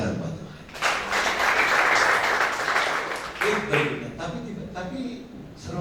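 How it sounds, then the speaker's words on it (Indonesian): Church congregation at a Sunday worship service with communion clapping together, a dense burst of applause that swells for a few seconds and then tapers off, with voices mixed in. "Tepuk tangan buat Tuhan"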